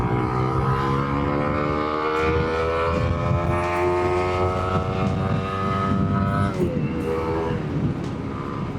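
A remapped Winner X motorcycle engine screams at sustained high RPM near 12,000, a loud steady whine with stacked rising harmonics that dips slightly near the end, recorded close with no talk.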